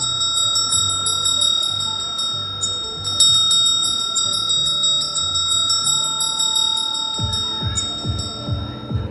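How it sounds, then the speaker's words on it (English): Several small bells ring loudly and continuously at a Janmashtami celebration for Lord Krishna's birthday in Wyndham, Melbourne, bright overlapping tones over a low background hum and drumming toward the end. "all the bells start ringing loudly"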